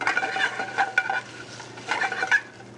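Shrimp cooking in butter in a pan, with shallots already softened, as a utensil stirs and scrapes in bursts against the pan over a faint sizzle, close and at moderate volume, with no talk.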